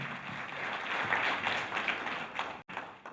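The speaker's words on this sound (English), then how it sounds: "A hand of applause, ladies and gentlemen." Applause from the audience at a university capital market challenge launch event, a steady wash of many hands clapping that swells slightly in the middle and breaks off abruptly near the end.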